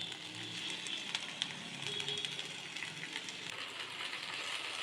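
Perandai frying in sesame oil in an iron kadai makes a faint, steady crackle and sizzle with scattered tiny pops, continuous and fairly quiet from start to finish.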